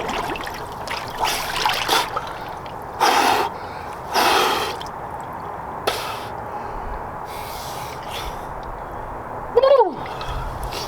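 Cold plunge water splashing and trickling as someone dunks under it, with several short bursts of splashing and breathy gasps spread across a steady background trickle, ending in a sharp gasp.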